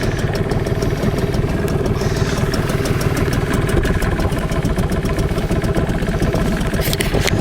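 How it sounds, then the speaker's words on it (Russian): A Tohatsu 5 outboard boat motor runs steadily at idle, a close, loud, even mechanical chatter with rapid ticking pulses throughout and no voices. "Заводим моторчик"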